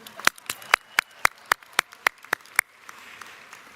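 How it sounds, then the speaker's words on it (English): A small crowd claps together in a steady, evenly spaced rhythm, about a dozen sharp unison claps, loud and close, at a gathering at a house of prayer on a walk for peace, then fades to quiet murmur. "Let's clap for the sunshine."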